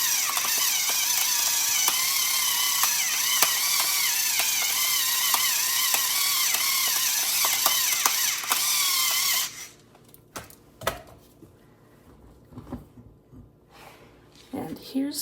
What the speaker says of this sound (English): I'm just going to grind it right out of my grinder.